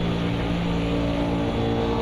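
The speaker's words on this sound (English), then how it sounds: "The cars sound so good in this game." A loud, steady race car engine in the racing video game Automobilista 2 drones continuously at high revs, close and unbroken throughout.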